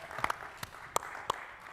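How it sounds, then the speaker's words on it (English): A few separate claps from a small audience at a technology and social justice conference, with roughly four or five sharp hand claps spread out over a low room murmur. "You can clap for me."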